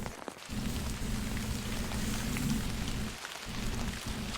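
Steady rain falls outdoors at night, a dense continuous patter on surfaces that dips briefly near the start and again later.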